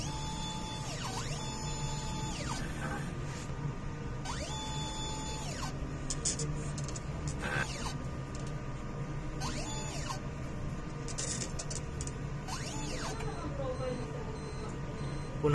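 An inkjet printer runs a print head cleaning cycle, giving a continuous mechanical whir with repeated rising and falling motor sweeps and occasional clicks, under some faint talk.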